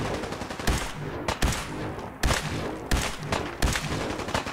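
Gunfire rings out in the video game Fallout 4, a series of sharp, loud shots in irregular bursts, roughly six distinct cracks over a steady background din.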